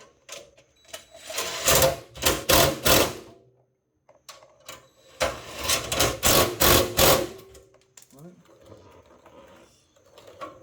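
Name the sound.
tightening 11mm stainless bolts on a car bracket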